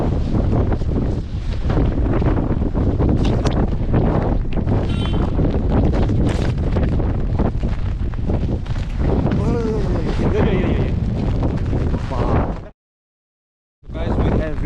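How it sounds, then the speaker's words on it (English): Strong gusts of wind batter the microphone at a waterfall in Meghalaya, a loud continuous roar with water rushing beneath, and a voice is heard faintly under it before a brief drop to silence near the end. "the wind is way too much. The wind blast is too much"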